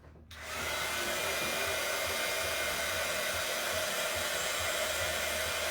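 A hair dryer kicks on after a brief moment and blows steadily and loudly on fall pumpkin decor, a constant close whoosh with no talk.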